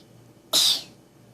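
A single sharp sneeze bursts out close by in a quiet room, fading quickly.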